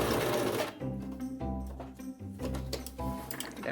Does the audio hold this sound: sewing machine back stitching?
yes